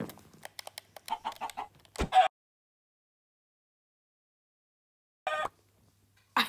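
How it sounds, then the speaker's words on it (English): A Minecraft video game chicken gives a rapid burst of short clucks, then two brief, separate clucks after a stretch of silence, each crisp and close. "Loud noise. The chicken."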